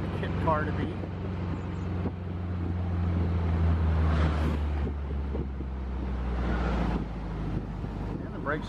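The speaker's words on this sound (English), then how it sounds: "Sorry, it's a little windy out here." Wind gusts across the microphone outdoors in a rushing, uneven roar over the low drone of a moving car, while someone talks through it.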